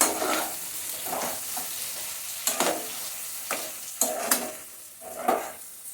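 White pulao is stirred in a cooking pot after water goes in, with rhythmic spoon scrapes and light clatter over a continuous sizzle, close and clear, with no voices.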